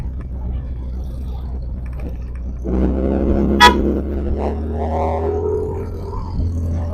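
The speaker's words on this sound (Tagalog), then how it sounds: "Lampas na ako bumusina ka pa talaga." On a road during a drop-off ride, a vehicle's horn gives one short, sharp honk that cuts through a steady engine rumble and traffic noise, with a few faint voices nearby.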